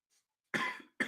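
Two sharp coughs from a man close to the microphone, the first short and full, the second cut off right after it, with a faint breath before them and nothing else around.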